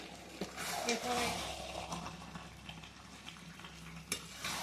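Mutton pieces with spices are stir-fried in a wok for a thin mutton and potato curry, giving soft sizzling with scraping stirs and an occasional clink of the utensil, fairly quiet and close.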